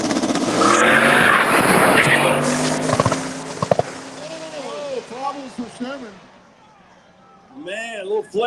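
A no-prep drag race car loses traction with a loud engine roar and tire squeal over the first few seconds, then fades as a commentator talks over the crowd.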